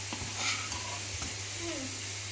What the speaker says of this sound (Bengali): এখানে এখন হচ্ছে আমার আলু ভাজা